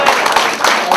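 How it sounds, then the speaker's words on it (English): Audience applause at a town hall meeting in Toronto, a steady wash of clapping from a crowd that holds at an even level throughout the short stretch. "Give him a bigger round of applause."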